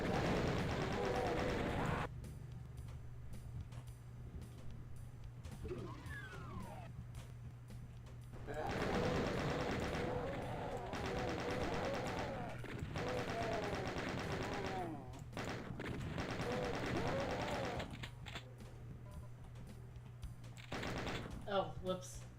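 A chaingunner firing in Doom 2, rapid bursts of game gunfire that start and stop in long stretches, mixed with other game noise and a speaking voice.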